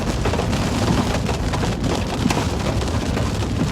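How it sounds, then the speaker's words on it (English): Heavy rain pours steadily through a thunderstorm near Waterloo, Iowa, a dense, continuous roar with low rumbling underneath, loud and close throughout with no voices. "We got a crazy storm right here."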